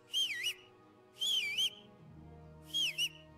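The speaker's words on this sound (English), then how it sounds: "I have a button for whistling." A character in the video game Kingdom Come: Deliverance whistles three short rising-and-falling two-note phrases in quick succession, clear and close over a quiet background.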